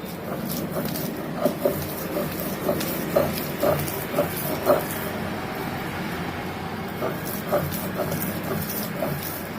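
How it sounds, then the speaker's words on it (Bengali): Sour-leaf bhorta being ground into a fine paste, heard as a steady run of rhythmic scraping strokes about twice a second, close by, with a faint low background hum. "এখন আমার ভর্তাটা মিহি করে বেটে নেওয়া হলেই বাটা শেষ"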